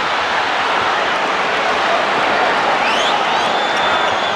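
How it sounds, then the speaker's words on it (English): Arena crowd at a 1993 NBA Finals basketball game between the Phoenix Suns and Chicago Bulls, a dense, steady roar of many voices swelling into a collective groan, loud and continuous with no clear breaks. "Crowd groans every time they see Marley has an open 3-point shot"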